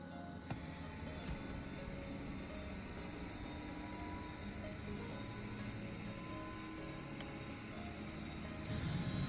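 An aircraft turbine engine spins up on its starter toward flight idle, a steady whining drone with tonal turbine hum, swelling slightly louder at the end.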